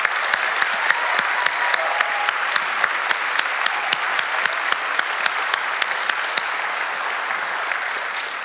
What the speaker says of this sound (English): Could we explode in applause for that group right now?